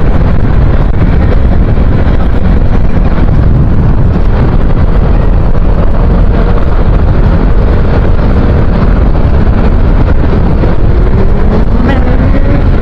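Wind buffeting the microphone during a motorboat ride on the Agos river, a steady loud roar with a low engine drone underneath throughout.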